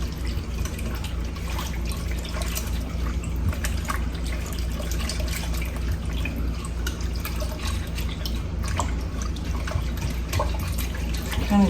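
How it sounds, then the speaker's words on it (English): Sourdough starter, a rye starter, being stirred into water in a bowl, giving steady wet sloshing and small liquid clicks throughout, close and fairly loud. "Just give this a mix real quick."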